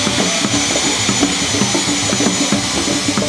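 Steady loud roar from the jet engines of a Nigerian presidential plane at Nnamdi Azikiwe International Airport in Abuja, a continuous dense whine-and-rumble with no voices.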